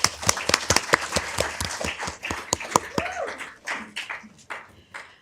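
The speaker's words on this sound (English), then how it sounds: "So let's give him a round of applause." Scattered, sparse clapping from a small audience at a city council meeting, a handful of distinct claps that thin out into quieter room noise and faint movement.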